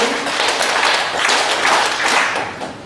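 A seminar audience claps together in a steady, dense round of applause at close range, lasting a few seconds before tapering off.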